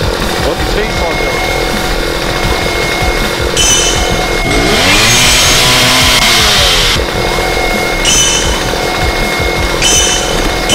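In the video game Starforge, a chainsaw buzzes loud and steady and rises into one stronger cutting rev midway, while someone talks over it.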